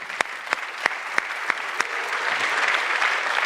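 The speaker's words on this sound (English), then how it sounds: "So I'd like to give him a round of applause." An audience at a Miami investment forum offers a round of applause: a few sparse, evenly spaced claps build into steady, full clapping that carries on alone to the end.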